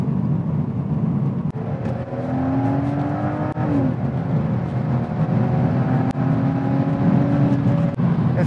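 A 2016 Volvo V60 T6 Polestar performance wagon driven hard, its engine rising in pitch through repeated gear pulls, sustained and fairly loud from inside the car with whine and road roar.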